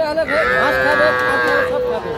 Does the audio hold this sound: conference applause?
no